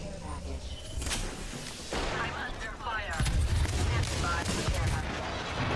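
Gunfire crackles through a sci-fi firefight in The Outer Worlds 2, with dense, continuous bursts and sharp reports layered over a rumbling, busy backdrop of combat noise, loud and sustained throughout.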